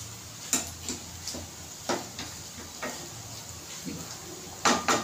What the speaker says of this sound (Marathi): चला आता चांगले हलवून घ्यायचे.